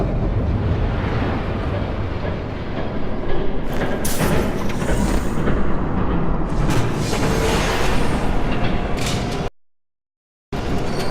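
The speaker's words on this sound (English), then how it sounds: "There's a train coming." A train roars past in the Batman: The Telltale Series video game, a loud, dense, continuous rumble with heavy low-end thuds that carries on for several seconds and then cuts to sudden silence.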